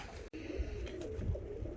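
Feather-footed jumbo show pigeons coo softly in a low, throaty murmur over steady background noise, with a brief dropout early on.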